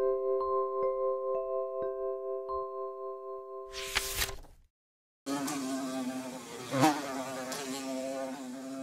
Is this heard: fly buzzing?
yes